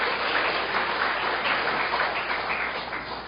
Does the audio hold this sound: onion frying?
no